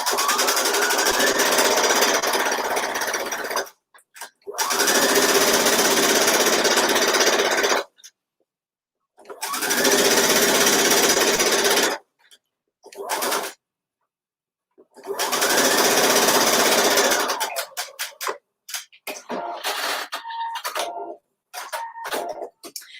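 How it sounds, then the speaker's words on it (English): Sewing machine stitching the back seam of a pair of pants, running in several steady rattling bursts of a few seconds each with short silent pauses between, ending in brief stop-start pulses. "You may want to stitch the back seam a second time for durability."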